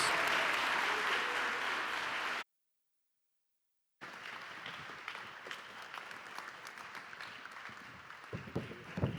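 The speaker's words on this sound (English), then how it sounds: "let's give him a big round of applause as he comes" An audience applauds at a university family event, steady clapping filling the room, then a brief silence before more scattered clapping continues, fairly close.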